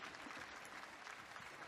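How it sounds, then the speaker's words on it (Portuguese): Audience applause at a papal general audience, a steady wash of many hands clapping throughout, fairly distant and soft, with some faint crowd murmur beneath. "Um aplauso a todos os Antônios."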